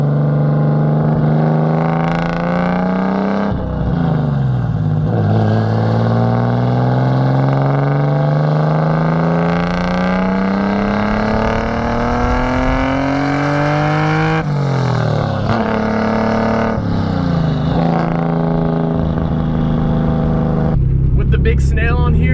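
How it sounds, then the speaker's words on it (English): A big-turbo RB-engined Nissan 240SX with a new exhaust manifold revs hard, climbing in pitch through long pulls with sharp drops between shifts, loud and close, whooshing at the top of each rev. "Hopefully you guys will be able to hear a bit of the turbo noises still"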